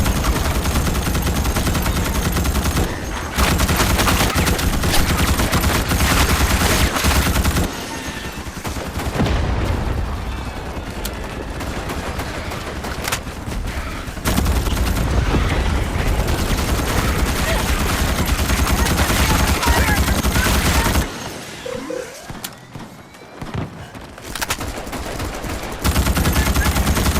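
Sustained rapid gunfire in the video game Starship Troopers: Extermination, loud and nearly continuous automatic bursts with brief lulls, dense layered shooting across the whole stretch.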